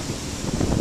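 Outdoor wind by a lake rushes steadily as broadband noise with a low rumble of gusting against the microphone, a short, continuous blast with no voices.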